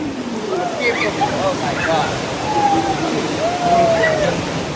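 Rushing, splashing water churns loudly throughout on the Kali River water ride at Disney's Animal Kingdom while people talk and exclaim over it.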